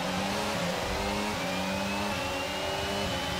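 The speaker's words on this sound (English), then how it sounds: "We're now reaching our optimal revs, and we're off and going already." An F1 car engine in the racing game F1 22 revs up at the race start, rising and stepping through gears with a high, steady whine that climbs in pitch, loud and alone without talk.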